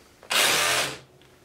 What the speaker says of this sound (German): Das ist halt ein Bohrhammer.